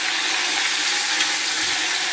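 Rabbit pieces brown with garlic in an open pressure cooker, giving a dense, constant hissing sizzle of hot oil with no pauses. The frying is loud, close and alone, with no talking.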